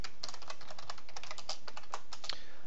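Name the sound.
typing on a computer keyboard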